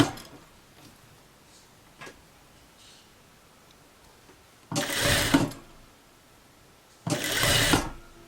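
A sewing machine stitching a blouse runs in two short bursts of rapid mechanical whirring, each lasting under a second, separated by quiet with faint clicks and handling sounds in between.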